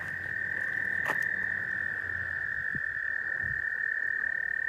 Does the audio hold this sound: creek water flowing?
no